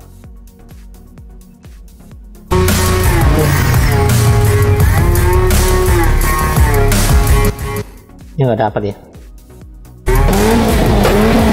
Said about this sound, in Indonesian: suara mesin aja, mungkin gas testnya gas test juga boleh dipakai